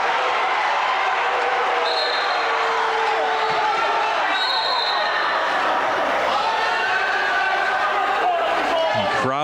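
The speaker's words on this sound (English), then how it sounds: "Crowd getting after it now." A high school basketball crowd roars and cheers loudly and steadily in a gym during a tight late-game stretch, with shouts, whistles and an announcer's voice mixed in throughout.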